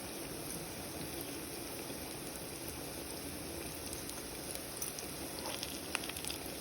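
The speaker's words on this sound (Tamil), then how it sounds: "பாருங்கள் நல்லா ஃப்ரை ஆகி வரும் பாருங்கள்" Yam slices frying in a pan of oil give a steady, even sizzle that runs the whole time, with a few brighter crackles near the end and no voices over it.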